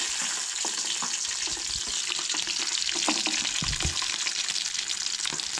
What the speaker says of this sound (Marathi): हलकेशें भाजून घेवंक जाय कांदो लसूण बीन